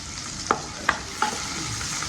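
Ivy gourd sautés in a pan with small onions and curry leaves for a Kerala stir fry, under a constant sizzle with three distinct spatula clacks against the pan at regular intervals.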